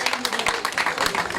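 A crowd at the Tour des Landes 2022 cycling team presentation gives a short burst of lively applause for the riders and officials, many hands clapping together at close range.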